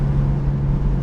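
Porsche 718 Spyder exhaust note, a steady low droning engine rumble at a constant pitch, loud and close, running alone without talk.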